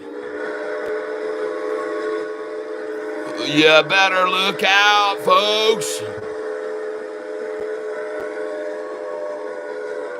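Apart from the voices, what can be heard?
train rumbling and whistle sound effect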